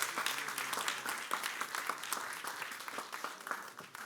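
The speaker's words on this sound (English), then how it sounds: "Give him another round of applause." Audience at a livestreamed summit event applauding a guest, dense clapping from many hands, fairly faint and distant, steady throughout with a few louder individual claps.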